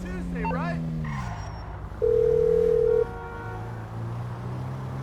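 A phone in the Grand Theft Auto V video game placing a call, a steady dial tone lasting about a second, then a brief second tone, heard under game sounds, with a voice talking over the start.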